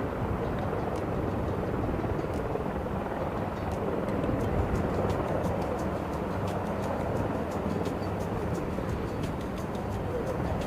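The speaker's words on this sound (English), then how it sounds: "Yep, there's a Huey with some Marines on it." A Huey helicopter carrying Marines flies overhead, a continuous broadband rotor and engine roar with rapid blade thumping, fairly steady in level throughout.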